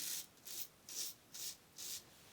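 A razor doing a touch-up shave with a Yates Ti 'Merica razor: five evenly spaced, close, scratchy strokes with short pauses between them.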